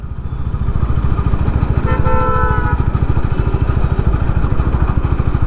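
A Honda CB 350 H'ness single-cylinder engine lugs at low speed in fifth gear, a loud, slow, even thumping pulse with a brief horn-like tone in the middle, no voices.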